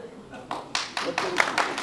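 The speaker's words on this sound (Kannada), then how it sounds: "ಬೇಡ ಬೇಡ ಚಪ್ಪಾಳೆ ಹೊಡಿಬೇಡಿ ಚಪ್ಪಾಳೆ ಹೊಡಿಬೇಡಿ" An audience at a political address breaks into quick, sharp claps that build in loudness over about two seconds, close and crisp.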